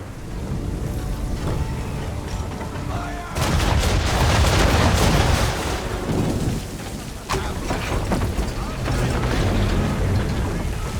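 Gunfire in Assassin's Creed 3: a sudden loud volley of shots and crackling impacts bursts in after a few seconds of quiet ambience, with more scattered shots later over a rumbling, rain-like background.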